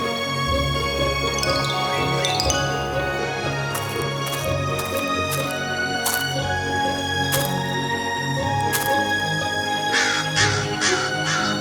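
A crow gives a series of harsh, repeated caws, sharp and fairly close, over a steady tonal background bed.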